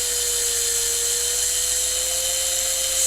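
A small hand drill whines in a steady, high-pitched drone as it bores through a wooden board-game meeple, close and continuous without pause.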